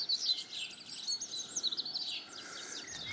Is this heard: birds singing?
yes